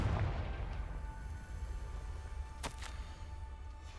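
The Confringo spell exploding in the video game Hogwarts Legacy on PS5: a low rumbling boom at the start decays into a lingering roar, with a brief sharp crackle near the end.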